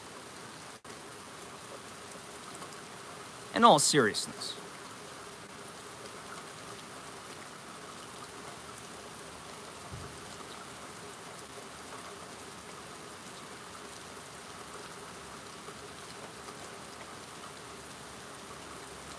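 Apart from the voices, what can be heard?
rain falling on surfaces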